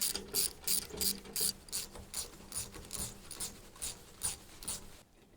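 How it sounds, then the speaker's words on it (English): Hand ratchet loosening a long bolt while mounting a Sherpa window rack on a Subaru Forester, a close, quiet run of steady clicking strokes that stops abruptly. "It's a long bolt, so you can take it out most of the way with the ratchet and then get the rest by hand."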